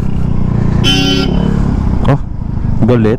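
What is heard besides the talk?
vehicle horn honking on the road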